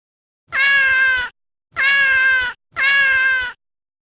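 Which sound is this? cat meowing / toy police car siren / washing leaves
cat meowing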